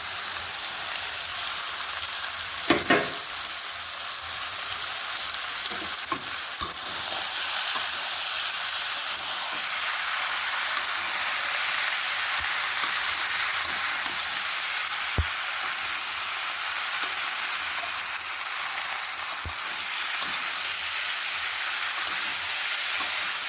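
Pork with capsicum and onion frying in a pan, a steady close sizzle and hiss lasting throughout, with a few brief stirring clicks and knocks scattered over it and no talking.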